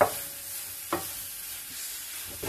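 A thawed, sliced African cassava stick cooks with vegetables in a pan, giving a steady soft simmering hiss broken by a couple of sharp utensil clicks, with no voices.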